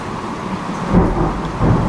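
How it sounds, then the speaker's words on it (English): Deep rumbling thunder rolls through steady rain, swelling twice into heavy low booms within a couple of seconds. "They're going to get another thunderclap here."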